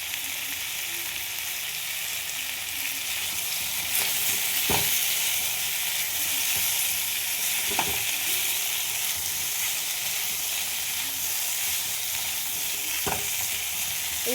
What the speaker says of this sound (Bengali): এইভাবে আমি ভেজে নেব, জল দেবো না, শুধু ভেজে নেব